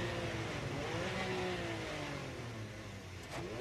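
A 1983 Le Mans race car engine drones loudly from onboard as the car approaches braking for the slow right-hand Mulsanne corner, with a steady roar whose pitch falls and then briefly rises again.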